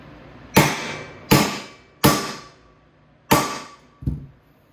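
A hammer strikes five sharp metallic blows, roughly evenly spaced, setting a rivet dimple in aircraft sheet metal during construction of a Van's RV-14 vertical stabilizer; each ringing hit decays quickly, the last one duller.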